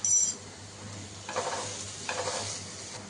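Ginger paste with turmeric and salt frying in a pan for a prawn curry, a soft sizzle broken by two short bursts of scraping as the mixture is stirred, with no talking.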